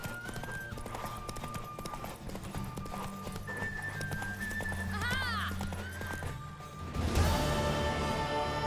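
Horse in The Witcher 3 on PS5, hooves clip-clopping at a quick galloping rhythm amid game ambience, with a loud neigh near the end and voices speaking over it.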